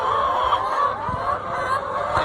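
Many layer hens cluck continuously together, a busy, dense chorus of poultry with no pauses.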